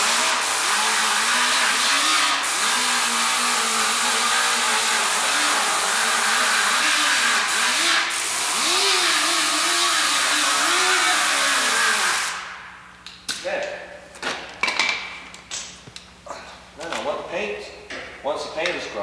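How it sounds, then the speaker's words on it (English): A grinder whines loudly and continuously as it strips paint from a car body panel in an auto body shop, then cuts out, leaving clattering handling noises and someone talking. "So I got to grind the paint onto this now."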